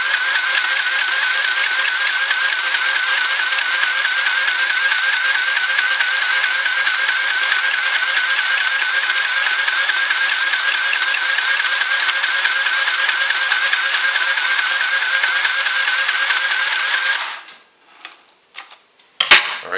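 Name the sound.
sewing machine stitching aquarium filter sock fabric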